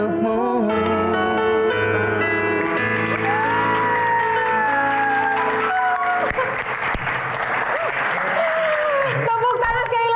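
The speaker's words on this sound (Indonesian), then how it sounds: "Tepuk tangan sekali lagi" An audience claps and cheers after a song at a live Q&A event, the applause swelling beneath lingering music and sustained sung notes before thinning out.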